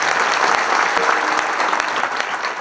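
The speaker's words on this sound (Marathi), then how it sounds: "या त्रिमूर्तींसाठी एकदा जोरदार टाळ्या वाजवा" Loud, dense applause from the audience at a Marathi kirtan, many hands clapping in a continuous roar that stays strong throughout and tapers slightly at the end.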